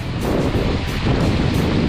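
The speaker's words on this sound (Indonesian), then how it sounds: "Hujan deras." Heavy rain falls in a forest during a bike ride as a dense, loud, unbroken wash of noise, steady throughout with no voices.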